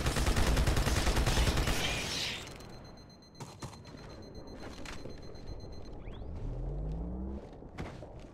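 Enemy gunfire in the video game Halo 2 crackles in dense rapid bursts, loud at first, then gives way to scattered shots, thuds and a descending whirring effect.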